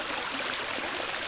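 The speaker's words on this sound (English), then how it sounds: "I'm going to put some more dirt through my little tiny sluice box" Water streams steadily through a small backpack sluice box as dirt is washed down it outdoors, making a constant close trickling rush with no voices.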